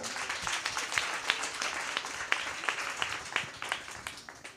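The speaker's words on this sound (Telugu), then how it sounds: "గట్టిగా చప్పట్లు కొడదామా?" A church congregation claps during a sermon in a steady, moderate patter of applause, somewhat distant, with sharp individual claps standing out.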